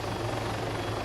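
Helicopter rotors chop steadily and loudly nearby in the ArmA 3 combat game, a dense, continuous throbbing drone with no voices over it.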